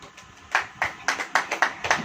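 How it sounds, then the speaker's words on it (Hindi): Hand claps in a church sermon setting, several sharp bursts of clapping roughly every quarter second, loud and close, with a low murmur underneath. "ताली बजाइए।"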